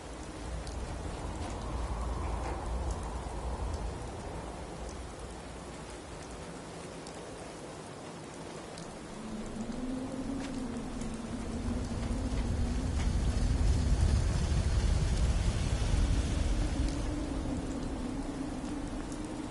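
Video game rain patters steadily throughout while low thunder rolls and rumbles in the distance, swelling louder toward the end.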